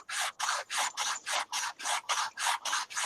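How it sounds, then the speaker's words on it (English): Sanding a piece of test tube by hand gives about a dozen steady, evenly paced rasping strokes, close and fairly quiet, with no voices. "I was sanding"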